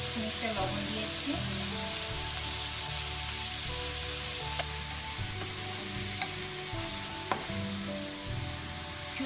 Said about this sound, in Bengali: সময় নিয়ে পেঁয়াজটা ভাজতে হবে।